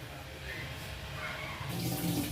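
Dishes washed under running water, a soft steady stream splashing in a sink at low level, growing slightly louder and splashier toward the end.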